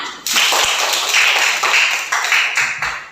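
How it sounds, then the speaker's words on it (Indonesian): A classroom of children claps on cue after a teacher praises their marks, a burst of fairly close, busy hand claps that stays dense throughout with no talk over it. "Tepuk tangan."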